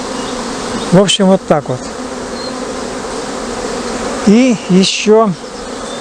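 Honey bees buzzing densely around apiary hives during a mass orientation flight, a constant close hum with a few louder bees darting past the microphone and brief speech over it.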